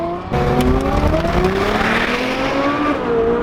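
A Bugatti Veyron engine roars and climbs in pitch as it accelerates hard, loud and close, with a rising whine and a hint of tire noise.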